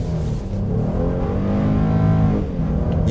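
A 2016 Honda Pilot Touring in sand mode accelerates hard, its engine note climbing steadily and dipping briefly at each smooth gear shift, loud and close throughout with no talk.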